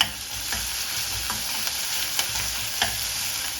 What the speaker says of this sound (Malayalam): പിന്നെ 4 വെളുത്തുള്ളി, പിന്നെ കുറച്ച് കറിവേപ്പില അത് ഇതിലേക്ക് ഇട്ട് കൊടുക്കാം. നന്നായിട്ടൊന്ന് മൂത്ത് വരണം.